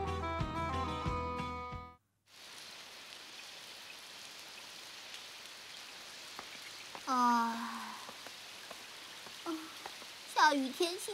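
Steady rain falls on a rainy day in an animated cartoon scene, a soft continuous hiss that follows a brief burst of music and runs under occasional short voices later on.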